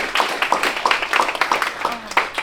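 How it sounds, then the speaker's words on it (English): Round of applause at an Oklahoma boxing and combat sports event, a rapid run of close, sharp hand claps from a small crowd, with a voice heard among them. "So round of applause for Mr. Gerald Whalen."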